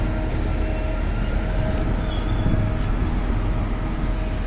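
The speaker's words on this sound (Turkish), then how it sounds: "Doğa Ekspresi tarihi Erzurum tren garına girmek üzere." A train, the Doğu Express, arriving at Erzurum station rumbles steadily nearby with a constant low roar, faint metallic squeals and brief high tones riding over the noise.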